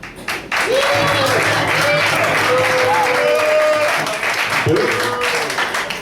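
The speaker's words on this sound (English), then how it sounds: "Men give the ladies a round of applause" A comedy club crowd applauds steadily as the ladies are cheered, broad clapping filling the room at close range while a voice talks over it.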